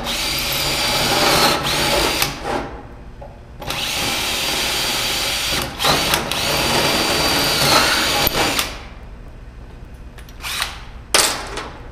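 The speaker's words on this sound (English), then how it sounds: "So what we're gonna do is pilot this out" A power drill bores a pilot hole in a metal valve cover, whirring loudly in several sustained bursts separated by short pauses and a few sharp knocks, with no voices.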